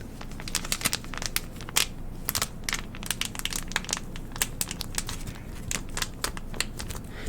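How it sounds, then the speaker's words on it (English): Crinkling and crackling from a plastic or foil-like material, with many sharp irregular snaps over a steady low rumble, close and fairly loud throughout with no voices. "These crinkle sounds you gotta be careful with."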